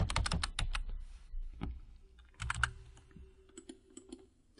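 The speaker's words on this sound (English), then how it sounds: "using the arrow keys on your keyboard, you can go left, right," Arrow keys on a computer keyboard are pressed in quick bursts of close, crisp clicks, with a few slower taps and short pauses between them.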